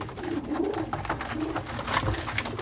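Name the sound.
pigeons cooing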